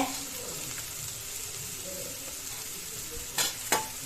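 Tomato and grated coconut fry in a pan with a steady low sizzle while being stirred, and two sharp scraping clinks of the utensil come near the end.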